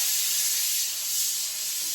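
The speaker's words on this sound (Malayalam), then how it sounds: "കുക്കർ വെച്ചു." A pressure cooker on a home stove releases steam in a continuous, even hiss, close and fairly loud, with no talk over it.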